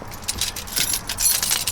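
Car keys jangling and clinking close by for a couple of seconds, a bright metallic rattle with no talking.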